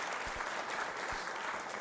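Applause from a school quiz show audience, steady dense clapping throughout a short stretch, moderately loud with no voices on top.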